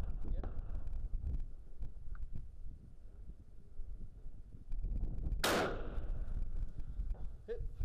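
A rifle fires at a 400-yard target outdoors. One loud, sharp crack with a ringing decay stands out over steady wind noise, followed by a faint distant tap.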